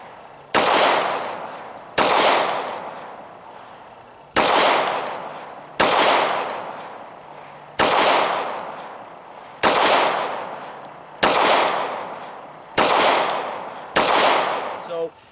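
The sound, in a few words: Glock 21 pistol firing .45 ACP rounds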